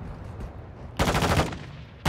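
Sniper gunfire in the Warzone video game: a sharp, loud shot with a burst of noise at about one second, then a second crack right at the end, over a dull background rumble.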